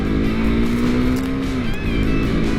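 A KTM Duke 390 single-cylinder engine revs up in a buzzy, rising whine and then eases off, close and fairly loud, with no one talking.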